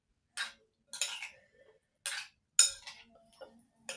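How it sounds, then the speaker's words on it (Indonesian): A spoon stirring a chilled dragon fruit milk drink, several separate bright clinks against the glass spaced irregularly, close and clear in a quiet room with no talk. "Kita aduk dulu"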